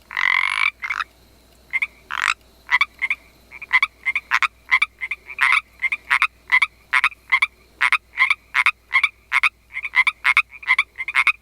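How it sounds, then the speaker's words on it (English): A Pacific tree frog croaking repeatedly, loud, close and clear, with rhythmic two-part ribbits steadily repeating over a quiet background. "We'd like to thank the Pacific Tree Frog, which sent that little clip in for us."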